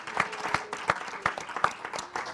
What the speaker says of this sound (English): could you give all of our first guests a great round of applause?